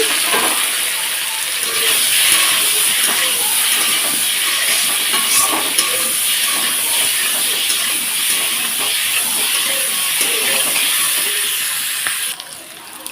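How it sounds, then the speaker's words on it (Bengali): Boiled potatoes fry in a little oil, giving off a loud, continuous hiss and sizzle that stays even throughout and dips slightly at the very end. "হালকা তেলে তো আলুগুলোকে ভেজে নিচ্ছি"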